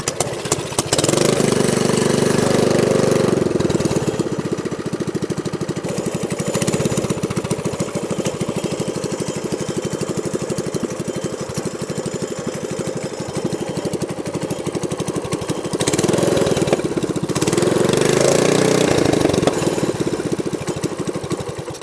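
Small gasoline engine on a Megamoto 212 or Predator 224, idling steadily after its idle was lowered, a continuous loud low chugging drone with slight rises in level partway through and near the end, no talking.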